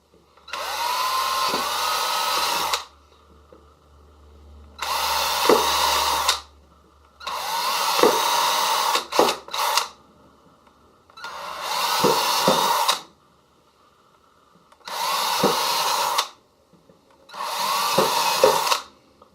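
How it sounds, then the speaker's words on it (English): A small power drill starting pilot holes for vent holes while building a ChargeStick whines in seven separate bursts of a few seconds each, close and loud, with quiet gaps between them. "I'll get a pilot hole started for all the vent holes."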